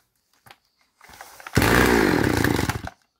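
A petrol chainsaw engine runs during a carburetor adjustment. A few faint clicks and a weak sputter come first, then the engine roars loudly at full revs for about a second and a half before cutting off abruptly.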